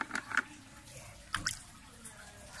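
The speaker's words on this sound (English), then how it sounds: "Now what I'm going to do here is I'm going to soak them in the water" Spanish moss (Tillandsia usneoides) being soaked in water gives a few soft, close wet drips and squishes in short bursts, with quiet pauses between them.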